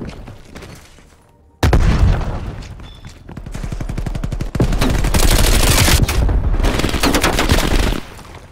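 Heavy combat in a Call of Duty Cold War multiplayer match: after a quiet moment a loud boom erupts, followed by sustained rapid gunfire and further blasts, close and dense.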